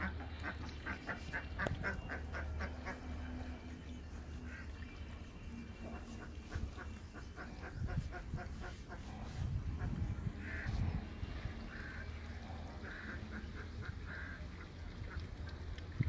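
Ducks quack repeatedly in short bursts at a farm pond, a busy outdoor flock with honking calls mixed in over low background noise.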